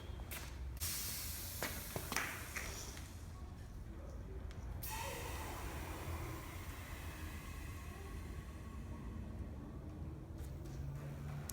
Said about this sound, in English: connect the air suspension up to the compressor at work just to see what it's like.